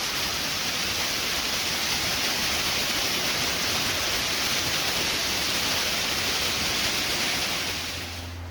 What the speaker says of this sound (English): Here we have the beginning of the flume, which runs about 600 feet all the way down to the mill.